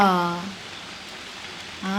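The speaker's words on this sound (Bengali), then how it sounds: "বাতাস বৃষ্টি আর বাতাস আকাশে মেঘের ঘনঘটা" Rain falls during a windy storm, a steady soft hiss briefly heard between a voice talking at the start and end.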